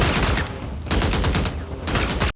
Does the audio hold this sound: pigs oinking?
no